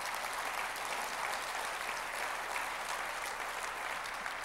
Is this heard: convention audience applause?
yes